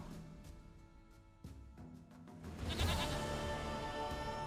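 A goat in The Witcher 3 bleats in a few wavering calls amid rustling ambient game sound, moderately close, with no talk.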